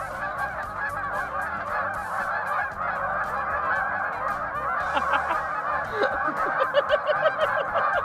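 A huge flock of geese honks and squawks all at once outdoors near a griddle cook, a dense, continuous clamor with individual honks growing louder and more distinct toward the end.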